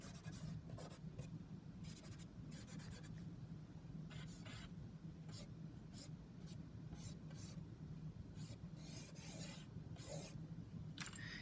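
Pencil guide lines on a drawing being rubbed out with an eraser, a soft, close, steady rasping scrubbing in repeated short strokes, quiet and alone.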